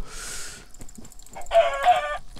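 Chickens in the video game Minecraft cluck in two or three short, close, fairly loud bursts, with a brief hiss and soft game noises between them and no talking.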